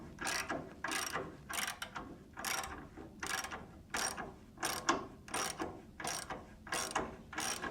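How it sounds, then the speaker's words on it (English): Crush washers crush under load during a coil spring install on a Chevy C10, a run of about a dozen quick, evenly spaced clicking creaks, faint and close with no voices. "That was the crush washers crushing."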